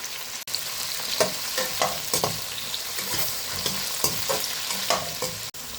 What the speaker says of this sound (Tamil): வெண்டைக்காய் வந்து நல்லா வதக்கி எடுத்துக்கணும் மொதல்